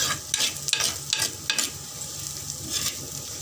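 Onions sautéing in a pan for a Kerala-style fish curry, with a steady close sizzle and a few spoon scrapes against the pan, no voices.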